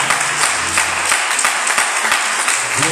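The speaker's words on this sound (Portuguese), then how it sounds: "Glorifica o Senhor com as palmas" A church congregation clapping hands in praise, dense sustained applause filling the whole stretch, steady and fairly loud with faint voices underneath.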